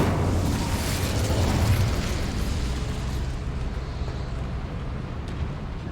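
An Incendio fire spell cast in Hogwarts Legacy, a loud close blast of roaring, crackling fire that dies into a steady rushing hiss.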